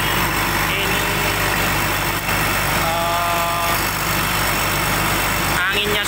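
A Cat excavator's engine runs steadily and loudly at close range, a continuous low drone with a whining fan, while bleating sheep or goats sound in the background.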